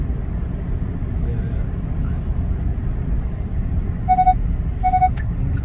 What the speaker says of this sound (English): that's the sound it does when you cross the line.